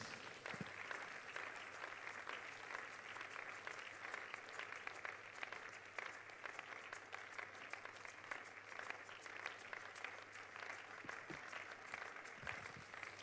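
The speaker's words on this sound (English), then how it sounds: "Clap some more for Jesus." A church congregation at a prayer and fasting service claps steadily in praise, a continuous bed of applause heard faintly and at a distance over a low hum.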